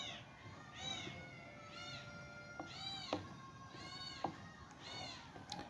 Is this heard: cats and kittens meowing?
yes